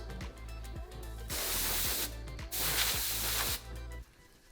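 An aerosol spray can fires two close, loud hissing bursts, the second slightly longer, separated by a brief pause and followed by quiet.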